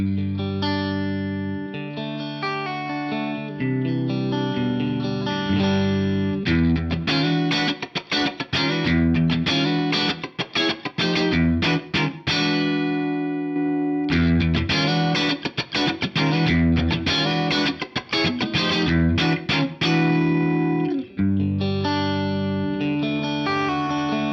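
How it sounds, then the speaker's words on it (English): Clean electric guitar played alone through a Headrush Flex Prime, picked arpeggios giving way to choppy, funky strumming, full and steady with a touch of effects shimmer. "I'll just play some clean arpeggios and then a funky little strummed part"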